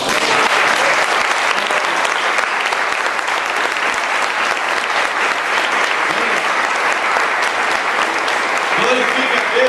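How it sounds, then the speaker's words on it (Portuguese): A church congregation applauding, dense continuous clapping from many people that stays loud and even throughout, with voices faintly mixed in beneath. "Aplauda o Senhor, meu irmão"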